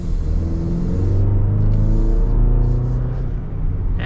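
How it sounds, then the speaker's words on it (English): A 2024 Chevy Colorado pickup truck accelerates, and its engine gives a loud, steady, low rumble with a droning hum, heard from inside the cabin with no talking. "Let's get another acceleration here."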